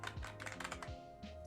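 Quiet computer keyboard typing, with a quick run of key clicks close by over a steady background hum, no talking.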